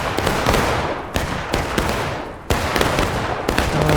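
Musket gunfire in the Civil War video game War of Right cracks out in repeated loud volleys, with sharp reports roughly every half second to second over a dense backdrop of distant scattered shots.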